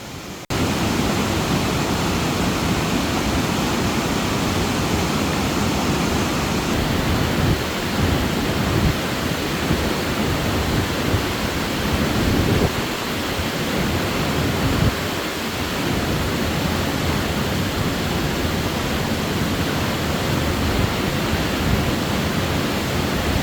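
A tiered waterfall on a creek roars with a constant, broad rushing wash that stays loud and steady from start to finish, nobody speaking over it.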